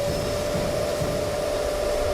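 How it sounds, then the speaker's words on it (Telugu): A cartoon vacuum system running as a steady, even whirring drone with a thin whine on top, like a hair dryer, holding constant throughout with no voices. "వాక్యూమ్ సిస్టమ్ ఆన్ చేయండి."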